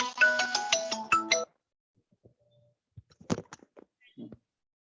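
Mobile phone ringtone playing a bright, melodic electronic tune close by for about a second and a half, then cutting off, followed by quiet scattered clicks and faint brief sounds.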